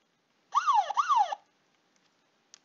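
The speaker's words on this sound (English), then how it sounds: "There was a police car. I heard the sound" Two quick rising-and-falling electronic police car siren wails in a row from a Scratch car game, clean and close, followed by silence with a couple of tiny clicks.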